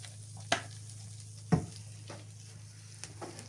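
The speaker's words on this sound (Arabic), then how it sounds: "وبنقلبهم مع بعض تقليبه حلوه كده اهو" Fried quail with dried coriander, flour and garlic in ghee is stirred in a pan, giving a low, steady sizzle broken by a few sharp utensil scrapes and taps.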